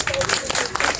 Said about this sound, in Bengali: সবাইকে অনুরোধ করব কৃতজ্ঞতা স্বরূপ অরূপদার প্রতি একটা করতালি নিবেদন করতে